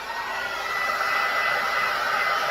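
A steady, loud rush of blowing air from a heat gun heating scorch paste on wood, continuous and close, with no talking.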